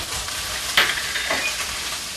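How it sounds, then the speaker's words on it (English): Flour being stirred into pan drippings with a flat Teflon whisk-spatula, a steady broadband sizzle and fry throughout with a couple of brief scraping strokes, close and moderately loud, no talking. "Okay, now to the drippings in the pan, we want to just loosen them up a little bit."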